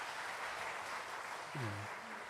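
Applause from a church audience, a dense, even patter of clapping filling the whole moment, with a brief voice cutting through near the end.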